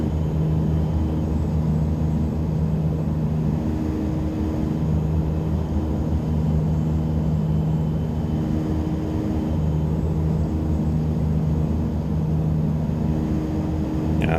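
An Epic E1000 single-engine turboprop drones steadily in the X-Plane 11 flight simulator, a loud, unbroken cockpit hum with a constant low rumble and tonal whine that never changes.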